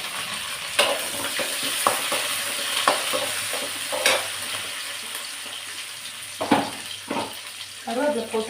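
Onion, garlic and curry leaves fry in hot oil in a pan, a steady close sizzle broken by a handful of clanks and scrapes from stirring, with a bubbling, spattering flare near the end.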